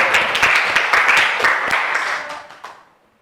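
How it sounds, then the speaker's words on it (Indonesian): Classroom applause from students, a burst of lively uneven clapping that swells briefly and then tapers off, ending in a few scattered claps. "Tepuk tangan buat kalian semua."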